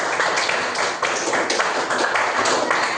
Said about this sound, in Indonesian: Kita kasih aplaus untuk Suci